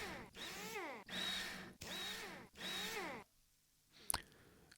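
Screws are driven in one after another in Rover Mechanic Simulator, four even whirring power-tool bursts with rising and falling pitch, each about half a second long, then a short sharp click.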